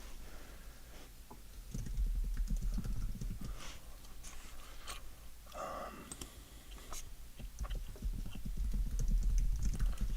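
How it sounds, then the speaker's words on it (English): Steady clicking of keys on a computer keyboard, quick irregular taps continuing throughout at close range, with no one speaking. "Wonder if anybody likes the typing sounds."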